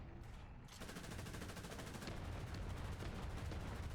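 Sustained M249 machine gun fire in War Thunder, a continuous rapid rattle of shots that sets in after a brief quieter moment and carries on loud and dense to the end.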